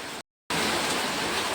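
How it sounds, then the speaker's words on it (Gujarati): Heavy rain pours down in a steady, dense hiss that fills the air, broken by a brief moment of silence before resuming at full strength. "જોરદાર વરસાદ ચાલુ છે"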